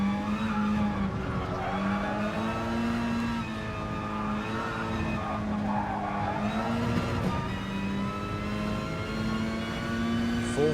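Group 4 and Group 3 race cars in GT Sport, at Circuit de Spa or the Red Bull Ring, drone on with a loud, continuous engine note. The pitch rises and falls as the cars accelerate and shift, with occasional tire squeal.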